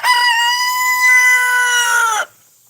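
A rooster lets out one long, loud, close crow that holds steady for over two seconds before cutting off abruptly, with nothing else heard around it.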